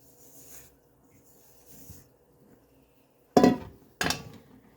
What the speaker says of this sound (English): So I just shake it, pat it on the counter.